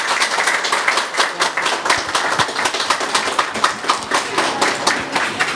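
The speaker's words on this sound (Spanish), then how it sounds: "le pedimos a sus compañeros que le den un fuerte aplauso a esta mujer ejemplo" Colleagues clapping for an honored employee at a staff recognition ceremony at a medical center, a lively round of hand claps with distinct sharp slaps, close and steady for the whole stretch.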